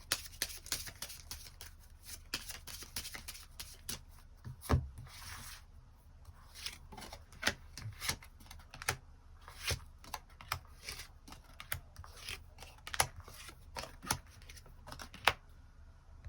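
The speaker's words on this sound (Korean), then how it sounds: "추가 카드 뽑아보도록 하겠습니다" Tarot cards shuffled and drawn from a deck, with a steady run of soft close riffling and sharp flicking snaps as the cards are handled, fairly quiet and with no talk over them.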